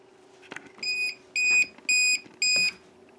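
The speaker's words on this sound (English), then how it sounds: "Now that starts beeping rapidly." An unplugged APC battery backup unit gives four rapid, piercing electronic beeps in an even rhythm, close and loud, after some light handling noise.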